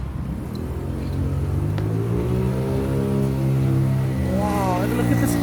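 Road traffic rolls past at a crossing in Port Louis, a steady engine rumble with a vehicle accelerating through, loud and close, while a person talks over it.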